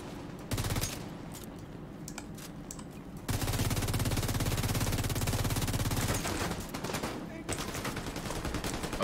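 Sustained rapid automatic gunfire in The Division 2 as a full magazine is emptied, loud and continuous for several seconds, with game effects around it and no speech.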